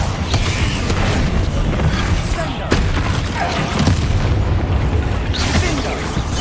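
Bombarda explosion spell cast in Hogwarts Legacy, a dense rumbling blast with crackling bursts filling the whole stretch, loud and continuous, with a sharp pop near the middle and game voices mixed in.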